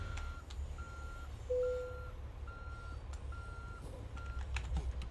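In American Truck Simulator, a truck reverses with a steady series of evenly spaced electronic reversing beeps, moderately loud over a constant low engine rumble, with a few faint clicks scattered through.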